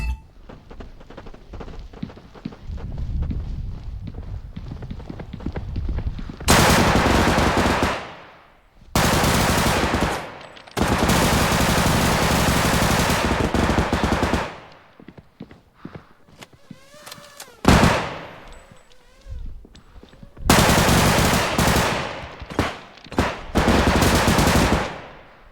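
Rapid automatic gunfire bursts from a weapon in a video game match, several loud sustained volleys separated by short pauses and quieter in-game footsteps and ambient noise, with no talk over them.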